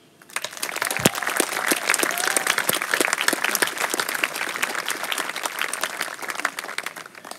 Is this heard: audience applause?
yes